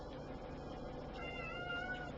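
A cat meows in a drawn-out, wavering cry, fairly faint against a steady background hum, with no voices.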